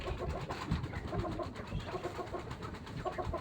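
Pigeons coo repeatedly in soft, throaty bursts, with several birds overlapping close by over a busy background of other birdsong.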